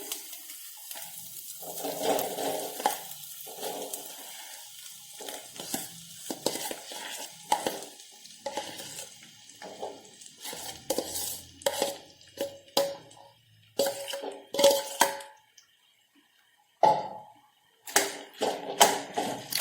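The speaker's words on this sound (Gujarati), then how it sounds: "હવે આપણે જે બટાકાને બાફીને રાખ્યા છે તે આ મસાલાની અંદર એડ કરી દઈશું" Boiled potatoes being mixed into a pan of spiced masala, with irregular scraping and clattering strokes of a spoon against the pan that come in short bursts with brief pauses, close and fairly quiet, no talking.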